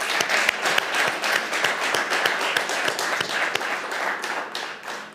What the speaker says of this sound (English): So a warm round of applause to everybody that presented today